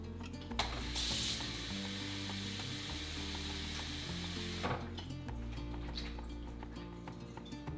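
Soaked black beans rinsed in water give a loud, continuous rushing wash with sloshing and a few clinks, then a somewhat quieter trickling stretch near the end.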